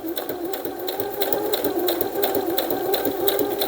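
A sewing machine stitching fabric pockets for junk journals runs in a fast, steady mechanical whir with rapid needle ticks, close and continuous without pause, with no voices over it.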